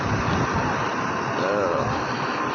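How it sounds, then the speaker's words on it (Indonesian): Strong wind on Mount Uhud, a continuous broadband roar buffeting steadily across the whole moment, loud and close, with faint voices mixed in. "Anginnya cukup kencang di Jabal Uhud"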